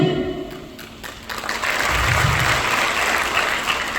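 A crowd clapping at a Hindu Swabhiman Melava rally in Rahuri, applause that swells from scattered claps into a dense, sustained roar of many hands, fairly loud and continuous.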